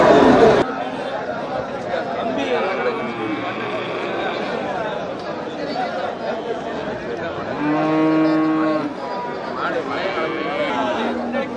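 Cattle moo repeatedly at a busy cow market in Melapalayam, with a long, loud low-pitched moo standing out over constant crowd chatter and livestock noise.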